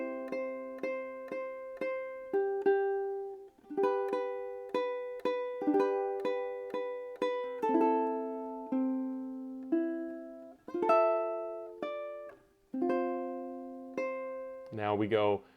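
A ukulele plays the bridge of a song, a sequence of clear plucked chords and single notes ringing out one after another at a gentle tempo, ending with a quick strummed flourish.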